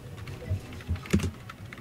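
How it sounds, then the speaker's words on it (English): Typing on a computer keyboard, a few soft, irregular key clicks close to the microphone with a faint background hum. "This is like 8 minutes of typing"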